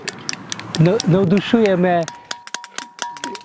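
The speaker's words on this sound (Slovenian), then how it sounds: "Morda slišite v ozadju klesanje mnogih dled." Many chisels carving stone outdoors on the island of Hvar, heard as sharp irregular metallic taps and clinks in the background while someone speaks over them, the taps continuing clearly after he pauses.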